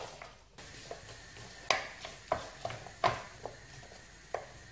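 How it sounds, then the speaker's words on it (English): Onions fry in a pan with a soft, steady sizzle, broken by a series of close scraping stirs and light clinks of a utensil against the pan. "And I'm going to start frying these."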